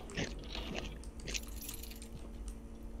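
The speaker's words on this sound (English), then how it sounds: "Do you hear my really loud crunching?" Loud crunching and chewing of food close to the mouth, several crisp bites and squishy chews over a steady low background hum, with no talking.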